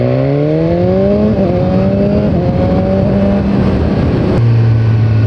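A 2017 BMW S1000R motorcycle engine runs loud and close, its tone rising and sagging slightly as it revs, then stepping to a steadier lower drone near the end.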